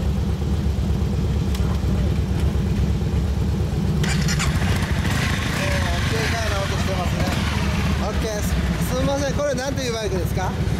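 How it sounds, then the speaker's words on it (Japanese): A 2014 Honda CB250F (MC43) motorcycle engine runs steadily nearby, a constant low throbbing rumble that never lets up, with people talking over it. "エンジン音聞かせてもらえますか？"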